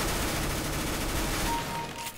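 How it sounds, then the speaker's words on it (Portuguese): Rapid gunfire from the video game CS:GO fills the whole moment as a loud, continuous burst of overlapping shots. It fades slightly at the end, and no one speaks. "o cara do meu time fica atirando em mim"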